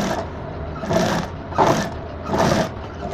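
A sewing machine stitches a strip onto a lehenga, running in three steady bursts that each swell and fade, close and fairly loud, with no talking.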